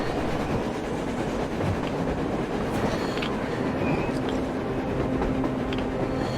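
Train passing on the surface in the post-apocalyptic game Metro Exodus, a continuous rumbling, rattling roll of rail cars at steady loudness with faint clatter on top.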